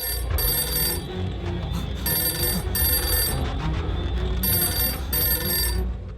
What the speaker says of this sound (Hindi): फिर से फोन बज गया